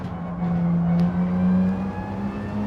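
A Porsche Carrera engine at full throttle in the video game Gran Turismo 7 gives a loud, steady, sustained drone with a slight waver in pitch and no breaks.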